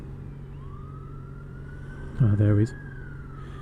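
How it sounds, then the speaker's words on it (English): A wailing emergency siren sounds while riding a Yamaha XJ6F motorcycle, rising slowly and faintly in the distance under steady engine and wind noise, while a brief nearby horn-like blare cuts in and a voice speaks briefly. "I can hear a siren, but I can't work out where it's coming from"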